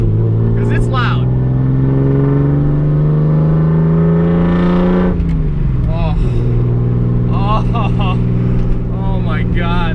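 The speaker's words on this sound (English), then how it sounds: "you can hear that spool down, you know, with the turbo as you slow down with that straight pipe" Droning engine of a 240SX with a big-turbo RB swap and straight-pipe exhaust, rising pitch, then a drop as it decelerates, raspy exhaust and fluttering turbo spool-down whooshes, with speech-like sounds mixed in.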